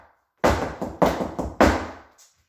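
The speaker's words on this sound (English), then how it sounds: "So that's a flat, heel, heel, flat, heel, heel, flat." Sharp flamenco foot stamps on a hard floor in three quick groups, each a strong flat-foot hit followed by two lighter heel stamps, then a soft final tap.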